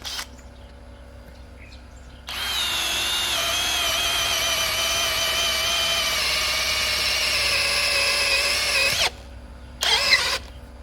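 A DCK KDJZ23i brushless drill in drilling mode at speed 2 bores a 10 mm auger bit into mahogany, a steady whining motor drone lasting several seconds, then a short second burst after a pause.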